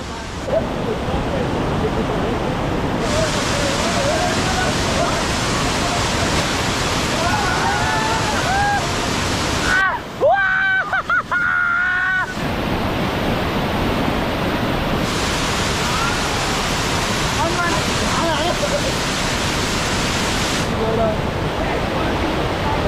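Bhange waterfall in Rasuwa, Nepal roars continuously in a loud, close wash of falling water, dipping briefly midway as other faint sounds show through before the full rush returns.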